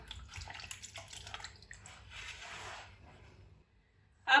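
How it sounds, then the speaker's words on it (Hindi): Potatoes are being rinsed and rubbed by hand in a bowl of water, with soft splashing and sloshing that fades toward a quiet pause before a brief clatter at the end. "इस तरह सारी एक दफ़ा अच्छी तरह 2-3 पानी से हम धो लेंगे।"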